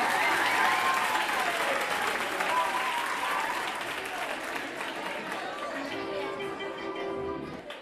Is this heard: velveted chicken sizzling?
no